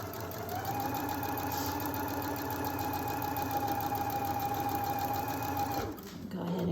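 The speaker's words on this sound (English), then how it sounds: "I'm just going to stitch that using my 1/4 inch foot." A sewing machine fitted with a 1/4 inch foot stitches a quilt block in one steady, fast whirring run close by, then stops near the end.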